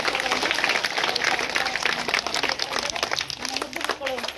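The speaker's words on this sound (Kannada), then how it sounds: "ಮೊದಲು ಆ 3 ಜನ ರಾಷ್ಟ್ರ ನಾಯಕರಿಗೆ ಒಂದು ಜೋರಾದ ಚಪ್ಪಾಳೆ" Audience clapping for three national leaders at a school Constitution Day celebration, a dense, fast patter of many hands from a nearby crowd, with voices under it.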